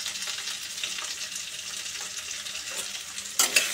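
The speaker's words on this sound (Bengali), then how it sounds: "এই হলুদ আর নুনটা ভালো করে নাড়াচাড়া করে মিডিয়াম আঁচে আলু কুমড়োটাকে ভাজা ভাজা করতে হবে" Potato and pumpkin chunks fry over medium heat with salt and turmeric, giving a soft steady sizzle and light stirring. A louder clatter of stirring comes near the end, with no talk.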